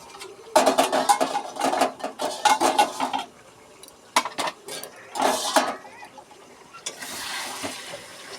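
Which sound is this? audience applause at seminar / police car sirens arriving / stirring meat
stirring meat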